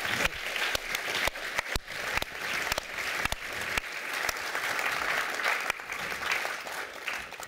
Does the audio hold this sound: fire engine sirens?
no